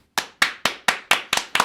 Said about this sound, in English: Clap for Jeremy.